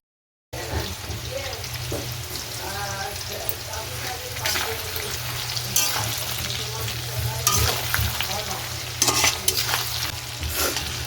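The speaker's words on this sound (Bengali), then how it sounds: "আলুটা ভালো করে ভেজে নিচ্ছি" Potatoes frying in a pan, a steady close sizzle with occasional stirring scrapes, a voice speaking faintly beneath.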